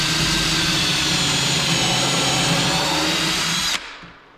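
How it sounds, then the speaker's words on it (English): A power drill pre-drilling holes through wood whines steadily at high speed for several seconds, then cuts off abruptly, leaving a quiet tail. "I'm going to pre-drill holes completely through one face and just barely into the other."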